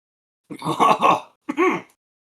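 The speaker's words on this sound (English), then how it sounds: "I will probably be coughing a little bit at least throughout the whole thing" Two short coughing bursts, the first longer and the second brief, close and clear against silence.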